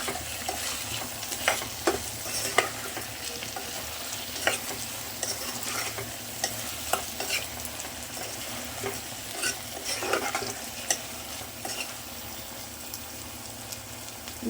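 Curry being stirred and mixed in a pan after salt is added, with a steady soft sizzle broken by frequent scraping clicks of a spoon against the pan, close and fairly quiet with no voices.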